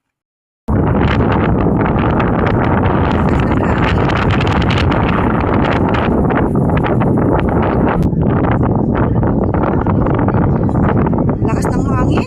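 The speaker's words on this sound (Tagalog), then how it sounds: "Lakas ng hangin." Strong wind buffets the microphone on a rocky hillside hike at Rhino Rock in Stanley, a loud continuous roar with gusts throughout, while people talk now and then beneath it.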